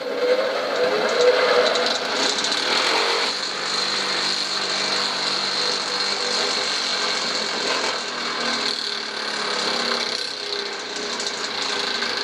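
A homemade belt grinder's electric motor spins up and then runs at a steady, loud whirring drone with a faint rattle, alone and close by.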